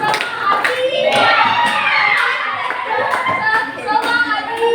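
A fourth-grade elementary class claps in quick rhythmic bursts while chanting together, the sharp hand claps repeating steadily under the children's voices.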